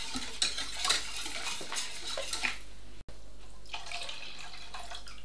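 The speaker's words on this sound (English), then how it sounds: "keep whisking because you want it to be smooth and not lumpy" A whisk stirs lemon meringue pie filling in a pan before the heat goes on, making quick scraping and tapping strokes against the metal that pause briefly midway and then carry on more softly.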